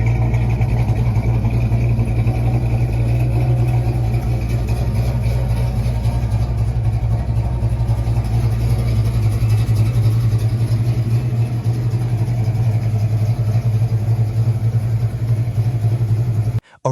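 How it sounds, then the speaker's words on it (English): A vintage Ford Mustang convertible engine runs steadily with a deep, loud rumble that holds at a constant level throughout, without any speech. "a cool vintage Mustang convertible that fires up, sounds good"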